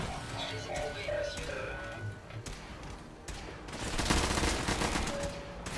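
Robot turret fire inside a robot arena in Fallout 4, bursts of rapid automatic shots building louder toward the end, mixed with game clatter and a voice talking.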